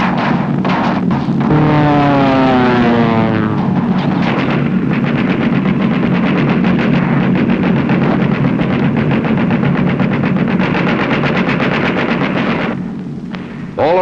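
Several B-17 bombers flying high in tight formation, their engines making a loud, continuous droning roar with a wavering, pulsing tone that holds steady throughout.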